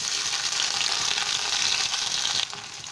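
Raw chopped onion dropped into hot oil with tempering spices hisses in a loud, dense sizzle that holds steady before easing off slightly near the end.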